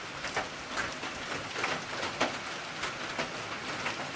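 Rain falls outside at a farm, a steady soft hiss with scattered drips and patters against surfaces, fairly faint and continuous with no voices.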